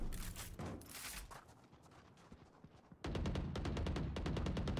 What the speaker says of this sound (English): I was bursting the shots.